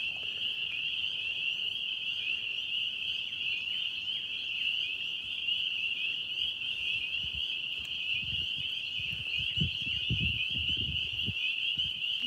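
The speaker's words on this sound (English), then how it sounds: "Just listening to the frogs." Frogs in a swamp keep up a steady, high continuous trill throughout, fairly faint and distant, with a few low rumbling thumps toward the end.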